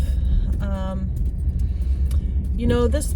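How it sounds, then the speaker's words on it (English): Inside a moving car, a steady low engine and road rumble runs throughout, with a voice talking over it and a couple of brief vocal sounds. "All right, so we're in the car and we're off."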